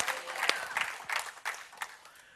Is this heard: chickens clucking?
no